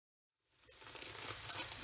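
Small onions and garlic sizzle in a pan for a Kerala raw plantain stir-fry, the frying starting after a brief silence and swelling into a steady, close, continuous crackle with no voices.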